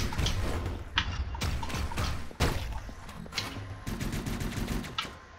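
Heavy gunfire from a railgun in the action game Hyper Light Drifter, with sharp repeated blasts over a dense, loud battle din that runs throughout.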